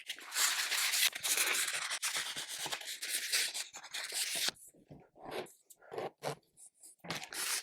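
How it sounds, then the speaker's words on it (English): Sandpaper rubbing on a model diorama base, a close, steady scratchy rasp for several seconds that then breaks into short separate strokes with pauses between them. "So I'm going to have a bit of a sand and then see where I am."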